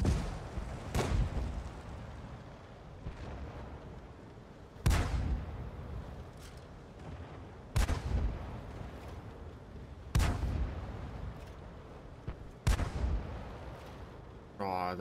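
Tank cannon shots in World of Tanks from a low-damage, rapid-firing gun, five or six sharp booming reports spaced a few seconds apart over a quieter engine rumble.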